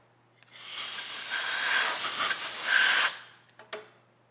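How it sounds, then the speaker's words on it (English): Brake cleaner sprayed from an aerosol can onto a bolt on a Cummins 12 valve diesel engine, one steady loud hiss lasting about three seconds, then a couple of short clicks and taps, no talking. "Put a little bit of brake cleaner."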